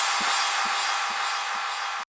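Sweep and exhaust sample from the stems of Avicii's Without You: a dense, steady whoosh of broadband noise over regular low thumps about twice a second, cut off abruptly.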